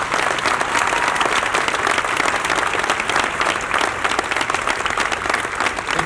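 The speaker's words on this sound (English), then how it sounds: "A nice round of applause for Gunnery Sergeant Gonzalez." Dense, sustained applause from an audience at a Veterans Day celebration in Anaheim, a loud, even roar of many hands clapping with no voices over it.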